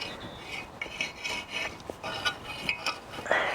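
Short scratchy rasping strokes as something rough is rubbed back and forth over a surface, close and fairly quiet, in an irregular rhythm.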